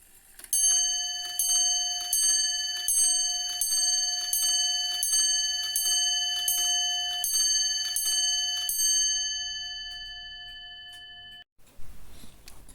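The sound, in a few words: grandfather clock chime mechanism striking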